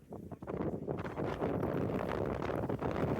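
Strong gusts buffet the microphone at the crowded Gaomei Wetlands in Taiwan. The roar is dense and steady, close and loud, with no pause.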